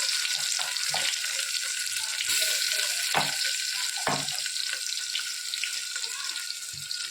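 Tomatoes, garlic and green chillies fry in oil with mustard seeds, giving a constant bright sizzle broken by a few soft stirring knocks, close and moderately loud throughout.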